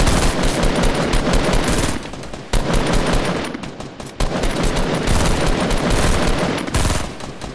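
Automatic rifle fire in Fortnite tears at a wall on a building's bottom floor, loud, close bursts of rapid shots broken by a few brief pauses.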